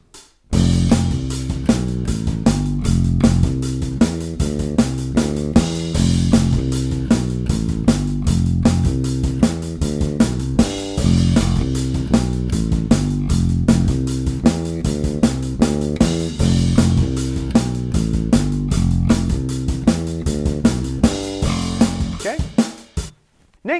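Electric bass riff played over a backing track with drums, a busy looping groove of quick repeated notes and steady percussive hits, loud and continuous with no talking.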